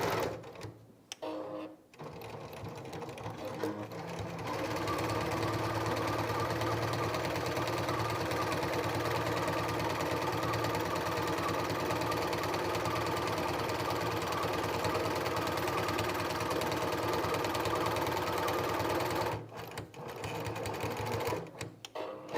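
Little Rebel sewing machine stitching seams down both sides of a fabric mermaid tail, a steady, close, loud whirring hum that runs without a break for about seventeen seconds, with brief clicks and handling sounds before and after.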